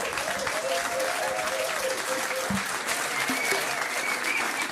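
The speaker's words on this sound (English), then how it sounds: "Give them a round of applause." A pub quiz audience at The Granta claps in a steady, moderate round of applause heard up close, with a few faint voices mixed in.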